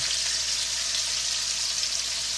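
Jerk chicken thighs searing in a pot give off a steady, even hiss of frying that runs unbroken and fairly close, with no talking over it.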